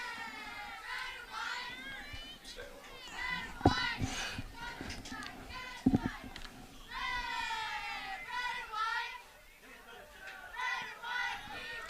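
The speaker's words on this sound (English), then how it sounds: "Cheerleaders cheering hard" High school football cheerleaders chant and shout in a steady, high-pitched group cheer at a Henry versus Western Hills game, with surrounding crowd noise and a couple of sharp thumps around the midpoint.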